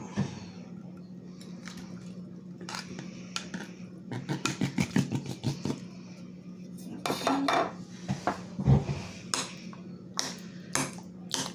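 Utensils clink and scrape against a bowl while a spread for crescent roll pastry is mixed, irregular bursts of tapping and scraping over a faint background hum, growing busier toward the end.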